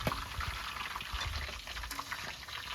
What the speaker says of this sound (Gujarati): જો તેલ આવી ગયું ને એમાં નાખી દીધા મરચા